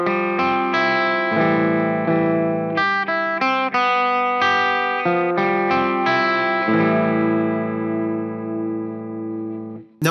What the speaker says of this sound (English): there's a really cool arpeggiated chord progression in the intro